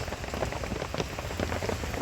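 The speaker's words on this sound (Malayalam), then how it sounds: "നമുക്ക് ഒന്ന് വെളിയിലിറങ്ങാൻ പോലും പറ്റില്ല, ഭയങ്കര മഴയാണ്." Heavy rain pours down outside, a dense, steady roar of drops pattering on surfaces with scattered louder splashes, close and continuous throughout with no talk.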